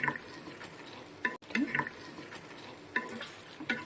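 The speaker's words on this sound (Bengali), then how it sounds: "কষিয়ে নিচ্ছি" Chicken curry with cashew and poppy seeds being sautéed in a pan, soft frying sizzle broken by repeated scraping strokes of a spatula, close and fairly quiet.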